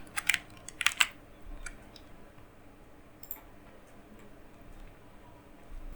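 Computer keyboard typing CSS code, with a few quick clusters of key clicks near the start, then sparse single taps over a quiet room hum.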